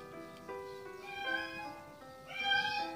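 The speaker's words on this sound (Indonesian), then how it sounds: "kucingnya mami meong-meong mulu." A house cat meows repeatedly up close, a series of clear drawn-out tonal cries rising and falling in pitch, heard in an otherwise quiet indoor room with no talking.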